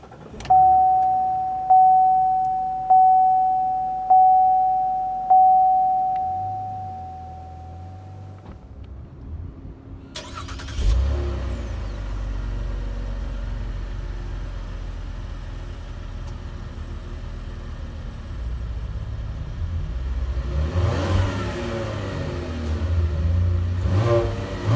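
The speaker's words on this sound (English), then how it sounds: "all you really need to do to start the car is make sure the key's on the inside of the vehicle" A 2018 Chevy Impala LT sounds a repeating chime, then its engine cranks and catches, settling into a steady idle before rising in a brief rev, heard from inside the car.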